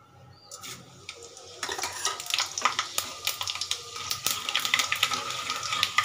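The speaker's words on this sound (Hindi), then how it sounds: "जीरा हमारा क्रैक हो रहा है" Cumin seeds crackle in hot cold-pressed mustard oil, starting after a quiet opening as dense, close sizzling with scattered sharp pops that keeps building steadily to the end.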